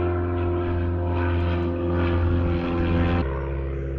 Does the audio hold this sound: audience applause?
no